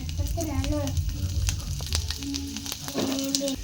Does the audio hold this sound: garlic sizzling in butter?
yes